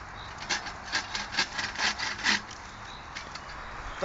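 A hand saw cuts firewood into pieces in a steady series of rasping back-and-forth strokes, fairly close and moderately loud, then pausing near the end.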